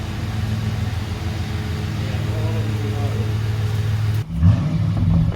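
A 4.6L Police Interceptor fitted with a new exhaust idles and revs with a deep, rumbling drone, and a sharper blip near the end, under people talking nearby.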